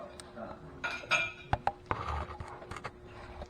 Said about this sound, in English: Well, I'll get my ratchet here.